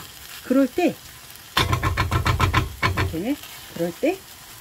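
Dried pollack strips sizzling and crackling in a hot pan as they are stir-fried in red pepper paste, a dense burst of frying noise with short tonal squeaks around it.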